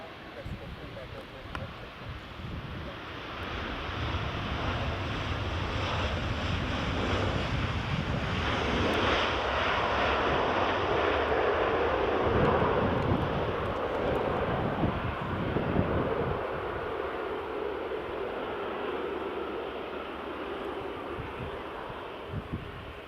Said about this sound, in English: Ryanair just landing.